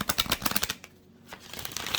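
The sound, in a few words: shuffling a deck of tarot cards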